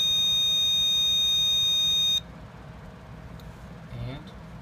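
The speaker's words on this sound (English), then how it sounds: "there's the doorbell" An electronic doorbell from a student alarm project gives a steady, loud high-pitched electronic tone for about two seconds, then cuts off, leaving quiet room noise and a brief voice.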